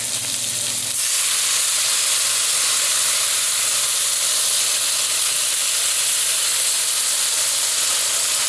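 Beef stock poured into a hot roasting pan sets off a loud, steady sizzle and hiss of steam that jumps in at about one second and holds strong to the end, with no talking.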